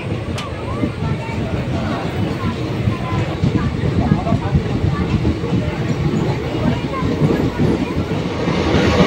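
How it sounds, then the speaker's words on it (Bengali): A passenger train pulls out of New Farakka Junction, heard from on board as a steady, rumbling roll of wheels and carriage noise that builds slightly, with voices faintly underneath. "আমাদের ট্রেন 1 মিনিটও দেরি না করে তার নির্ধারিত সময়ে নিউ ফারাক্কা জংশন থেকে ছেড়ে তার পরবর্তী স্টেশন মালদা"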